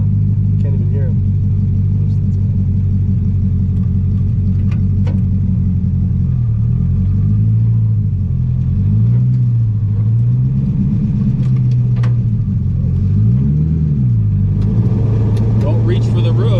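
A 500 hp LS7 427 engine in a Z06 tub car rumbles loudly from inside during a ride, its pitch rising and falling through several revs and drifting donuts, with people talking over the engine.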